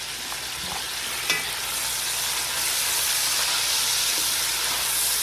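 Leeks fry with bacon in a soup pot for a copycat Zuppa Toscana, giving a steady close sizzling hiss with a few faint clinks and scrapes and no voices.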